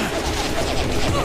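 Dense video game gunfire from a shootout at a steelworks dockyard, a constant loud wash of shots with a voice mixed in.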